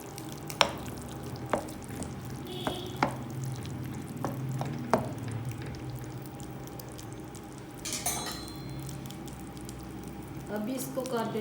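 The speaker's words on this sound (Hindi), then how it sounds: "इस तरह डालने का फ़ायदा ये होगा कि कीमा भी मसाले के साथ ही भुन जाएगा।" Minced beef frying with masala for hara keema, a low continuous sizzle punctuated by sharp spoon taps and clinks against the pan, with a louder burst of stirring midway and talk over parts of it.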